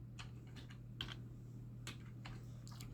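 Keys on a computer keyboard are tapped in short irregular bursts, close and soft over a steady low hum, entering names and numbers into a console program.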